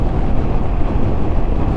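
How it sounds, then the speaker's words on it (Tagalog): Loud, steady wind roaring across the microphone on a mountain road while riding a Suzuki Avenis 125 scooter, a dense continuous rush with no talk. "ang sarap talaga ng simoy ng hangin guys"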